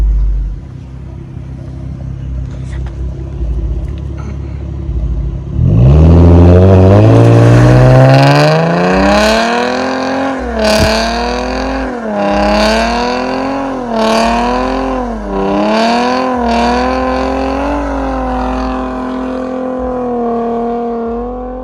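Automatic 2013-14 Ford Mustang doing a burnout: after a low idle, the engine revs sharply and then holds at high rpm with repeated surges and dips, loud and close, with no talking.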